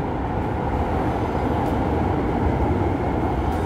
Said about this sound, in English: So cue the train right now, and we need to stop